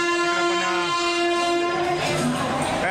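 A train at the crowded general section of Pune railway station sounds a loud, sustained horn that holds steady, then gives way to rumbling station noise.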